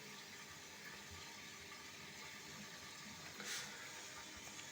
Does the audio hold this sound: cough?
no